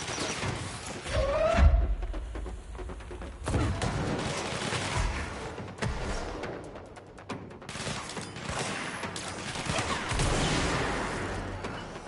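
Gunshots in the Control: AWE game on PS5, several sharp, loud reports scattered over a steady rumbling background, with thuds and mechanical clatter between them.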